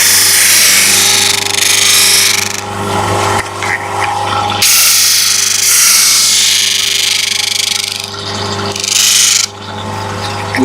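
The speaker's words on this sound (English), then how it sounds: "my little sander with my radius jig on it" A small power sander with a radius jig grinds wood in loud, harsh rasping bursts, pausing briefly between passes, over a steady motor hum.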